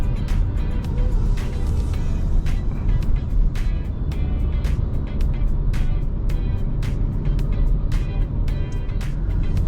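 A Kia Sportage SX Prestige all-wheel-drive hybrid SUV climbs a hill at night, heard from inside as a steady rumble of road and engine noise with faint repeated ticks.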